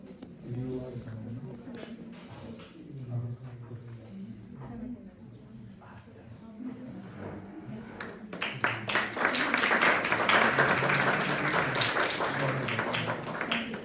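Audience applause at a stage ceremony with judges and guests, starting after a stretch of talking and rising at the end into loud, dense clapping that stays strong.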